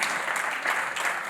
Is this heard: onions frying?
no